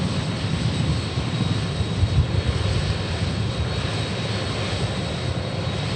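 Boeing 777 at Memphis International Airport, a broad, steady engine roar holding loud and even throughout, with no break or talk over it.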